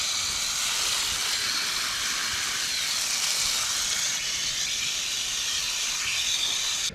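Water from a hose or tap rinses freshly dug ground pear tubers, a constant loud hiss and splash that runs unbroken throughout with no voices.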